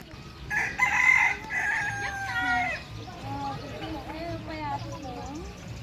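A rooster crows loudly nearby, followed by chickens clucking and calling in a busy jumble, with a voice talking underneath.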